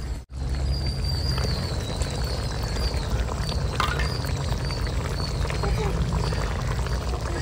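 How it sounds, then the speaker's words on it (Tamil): Water being poured into a pot of fennel seeds in hot oil gives a continuous splashing rush that lasts several seconds, heard close up under faint background noise. "ஆனாலும் நம்ம தண்ணி ஊத்தணும்."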